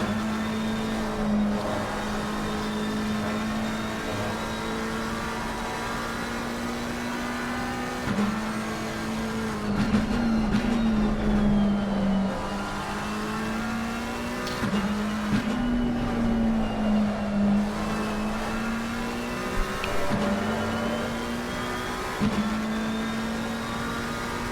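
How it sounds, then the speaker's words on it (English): A McLaren race car in Assetto Corsa Competizione lapping the Nurburgring, its engine droning steadily with rising and falling pitch through gear changes and corners, heard continuously from onboard and fairly loud. "This is the sounds, the sights of the McLaren."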